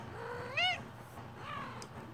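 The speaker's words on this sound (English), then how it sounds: "That was my cat." A house cat meows once, loud and close, followed by a second softer, drawn-out meow in a quiet room.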